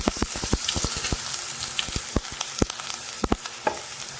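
Garlic and ginger dropped into hot oil for crunchy chilli fish crackle and pop in sharp, irregular bursts over a soft frying hiss, close up and without talk.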